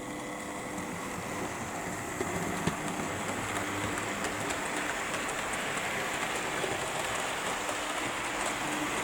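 A steady, even rumbling hiss runs throughout as a model train pulls Hattons Genesis coaches continuously along a layout, with a faint click partway through.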